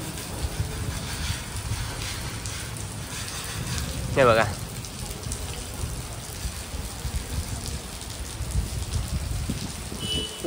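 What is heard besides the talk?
heavy rain falling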